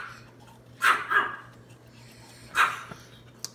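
Dogs bark in a kitchen, two sharp close barks about two seconds apart over a quiet background hum, with no talk.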